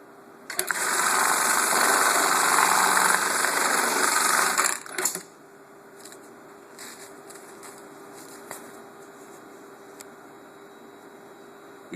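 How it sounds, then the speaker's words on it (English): A Juki AMS-210EN bartack sewing machine stitching foam runs for several seconds with a loud, fast, buzzing whir, then stops abruptly, leaving faint clicks and scattered light mechanical ticks against a quiet hum. "When I step on the pedal, the clamp will start to come down"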